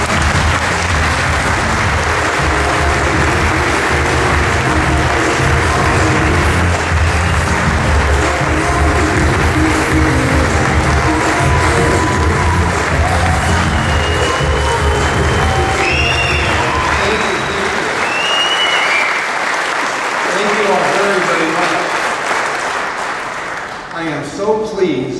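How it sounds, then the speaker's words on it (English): Summit audience at Dubli Summit 2015 gives sustained loud applause to welcome a speaker on stage, with cheering mixed in, and the clapping fades out toward the end while voices can be heard. "we are just so honored and so pleased to bring up on stage with your applause, Mr. Ivan Braiker."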